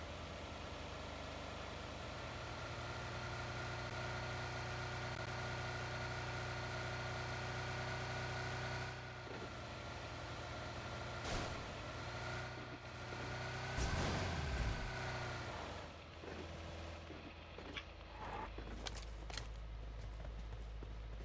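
A car engine drones steadily while driving in the mobile game PUBG Mobile, a continuous mid-pitched hum with occasional rougher bursts toward the end and no speech.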